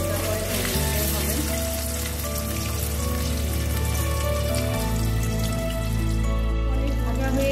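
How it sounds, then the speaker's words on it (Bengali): Paneer cubes fry lightly in hot oil for a restaurant-style chilli paneer, making a loud, dense, steady sizzle with fine crackling and a low hum underneath, with no talking. "হালকা করে ভেজে নেব। বেশি ভাজার দরকার হবে না"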